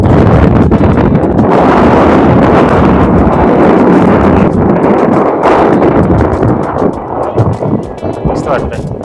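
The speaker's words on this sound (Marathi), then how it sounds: "मस्त वारा सुटलाय" Strong wind on a hilltop near Hampi, roaring and buffeting the microphone in loud, continuous gusts that ease slightly toward the end.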